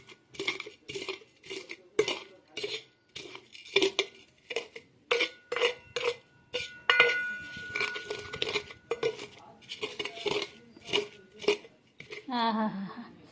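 A metal pot is pounded repeatedly on green chillies to crush them for spicy thecha, giving a steady series of bright metallic clinks and thuds with short pauses between them, and someone talks quietly near the end.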